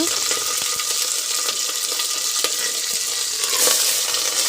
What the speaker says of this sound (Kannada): ಈಗ ಕೆಂಪಗೆ ಬೆಂದಿದೆ ಈರುಳ್ಳಿ ಈಗ ಬೋಟಿ ಹಾಕ್ಕೊಳ್ಳೋಣ